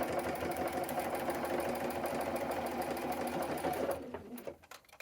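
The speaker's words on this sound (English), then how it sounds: "And then I'm just sewing the rest of that seam." A sewing machine stitches the rest of a Y-seam on a quilt block, a steady close mechanical whir running continuously before slowing and stopping near the end.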